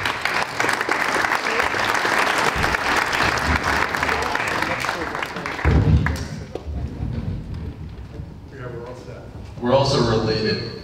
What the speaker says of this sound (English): let's give the round of applause and invite Roldan up on stage